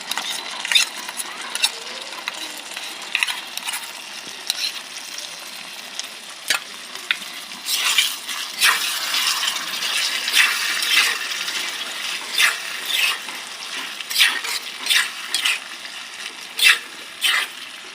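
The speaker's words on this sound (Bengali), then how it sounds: "ভালো করে নাড়িয়ে নিলাম সস দিয়ে।" Egg chili frying in sauce in a kadai, a continuous sizzle broken by repeated scraping stirs of a spatula against the pan, close and fairly loud, with no talking.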